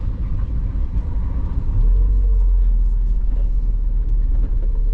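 A Mazda MX-5 Miata engine rumbles steadily from inside the car during a tight turn, with a deeper low drone swelling partway through and holding on to the end.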